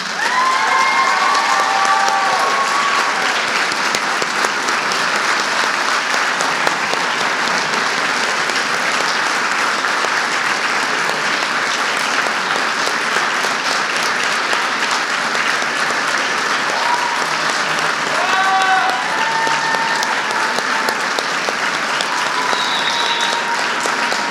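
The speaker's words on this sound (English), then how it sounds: "So I would like everyone to please give a rousing applause for Mrs. McMullen." Audience applauding for an award recipient at a senior award night, sustained steady clapping throughout with some cheering, loud and continuous for the whole stretch.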